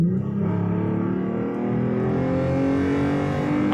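A 2020 Toyota Tacoma pickup with a Borla S-type exhaust accelerating hard while driving, a loud close engine note climbing steadily in pitch as it revs up.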